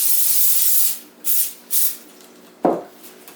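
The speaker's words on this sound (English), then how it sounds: "I'm going to spray it with oil spray" Oil spray hisses onto a baking sheet in a long burst followed by two short ones, close and crisp, then a single dull knock and a faint trailing hiss.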